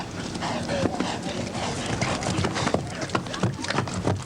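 A horse's hooves clip-clop over ground at a 1983 horse trials cross-country course, with quick, uneven strikes under a steady outdoor hiss and a commentator talking.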